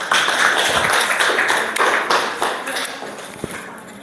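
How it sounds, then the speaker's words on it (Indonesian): A classroom of students gives a round of applause for a group, a dense burst of many hands clapping that carries on steadily for several seconds before tapering slightly toward the end. "Tepuk tangan dulu untuk kelompok 1."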